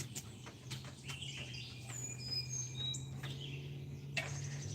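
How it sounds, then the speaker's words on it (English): A bird calls outdoors near a front porch, a few thin high chirps and short whistles, fairly faint and intermittent over a steady low hum and light ambient noise, with no speech. "No, that's not a rattlesnake. It's a bird of some sort."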